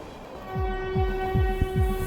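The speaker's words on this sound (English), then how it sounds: "A train is rushing through the desert without a final destination" A train rushes along rails through open desert, a loud steady rumble with rhythmic low pulses from the wheels and a sustained tonal hum over it.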